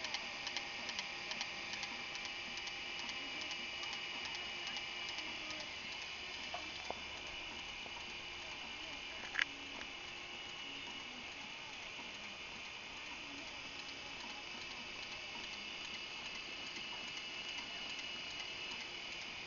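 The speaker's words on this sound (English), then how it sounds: "This is the Newman motor. The coil is 200 ohms." A Newman motor with a 200-ohm coil and commutator runs steadily, giving a continuous faint whirring buzz with fine rapid ticking and an occasional sharper click, with no voices.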